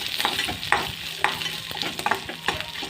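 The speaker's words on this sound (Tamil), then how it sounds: "எண்ணெய் லைட்டாக ஊற்றி அதில் வறுத்து வச்சுக்கோங்க நல்லா வறுத்துட்டோம்" Onion, curry leaves, chillies and garlic roasting in a little oil, stirred with repeated scraping clinks against the pan over a continuous close sizzle.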